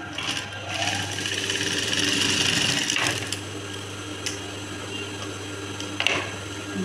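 A sewing machine stitching a blouse runs in a steady continuous whir for about three seconds, then slows into quieter intermittent mechanical sounds with a couple of sharp clicks, fairly close and with no talking.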